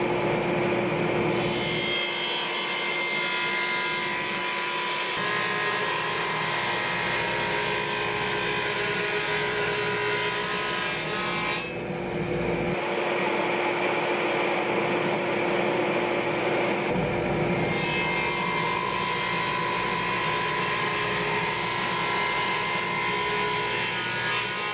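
A flush trim saw cuts through a veneered wooden marquetry dice-tray box, giving steady, continuous rasping strokes close by with brief pauses, no talking.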